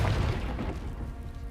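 Confringo fire spell explosion in the Hogwarts Legacy video game, a deep booming burst at the start that rolls off into a fading low rumble, loud and alone.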